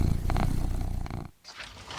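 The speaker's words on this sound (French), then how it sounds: "Les chats sont venus me réveiller, ils attendent quelques croquettes" Cats purring on a winter morning while waiting to be fed, a steady low rumbling purr close by with a brief dip partway through.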